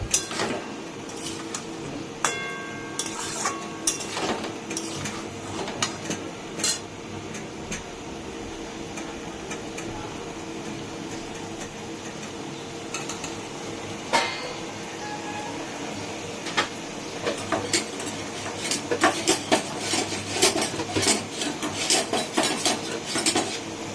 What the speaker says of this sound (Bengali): আমি অল্প অল্প করে জল দিয়ে দিয়ে কষাচ্ছি।